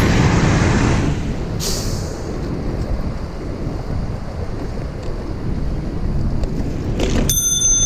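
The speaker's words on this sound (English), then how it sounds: "So just keep ringing the bell, letting them know that there's a possibility that bike may collide with them." A bicycle bell rings on a bike ride through New York City, from Central Park to Wall Street, sounding a couple of bright rings near the end over constant loud wind rush.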